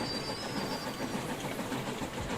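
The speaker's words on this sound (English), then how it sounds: "Let's listen to some ASMR train sounds" Faint, steady rumbling of a train rolling along in the railway game Station to Station, with soft rhythmic clatter under a constant hiss.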